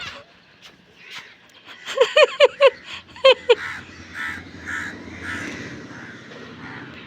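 A crow caws in a quick run of about six harsh calls, clear and fairly close, set against quiet surroundings with a faint murmur afterward.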